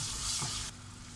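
Ginger garlic paste sizzles in a pan with fried onions, a loud, close, steady hiss of frying that drops to a quieter sizzle about halfway through.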